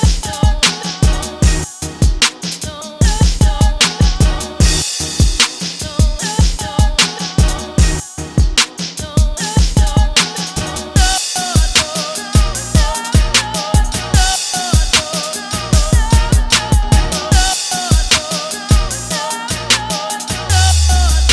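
Hip-hop beat with drums added over a chopped sample melody, loud punchy kicks and snares driving a steady looping groove throughout with no voices.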